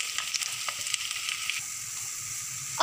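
Finely chopped onions and curry leaves sautéing in hot oil over a low-to-medium gas flame, a steady close sizzle with faint crackles and a sharper scrape near the end, no talking.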